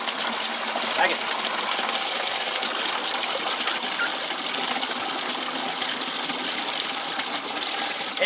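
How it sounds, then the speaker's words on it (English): Water gushes steadily out through newly installed drain plumbing on an elevated duck pool, a constant rushing flow that runs for the whole stretch while someone talks over it. "So the water comes out way quicker."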